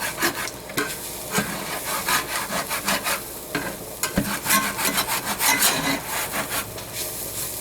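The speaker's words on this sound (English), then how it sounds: "I'm going to kind of like scrape it up off the bottom to make sure all the spices are going to make it into the chili." A spoon scrapes spices off the bottom of a pot of pumpkin chili, making loud, close, repeated rasping strokes in an irregular rhythm over a soft sizzle, with no talking.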